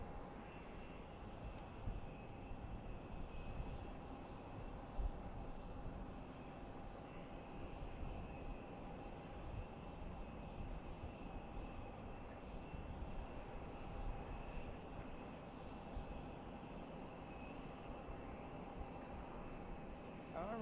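A Southwest airliner departs from the runway at Boise Airport, its jet engines a steady broad rumble heard from a distance, continuous and fairly faint throughout.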